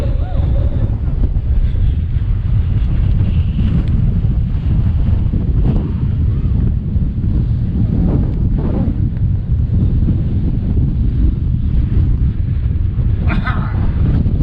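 Strong wind buffets the microphone on an exposed hilltop in the Peak District in a constant loud roar, with faint voices barely audible underneath.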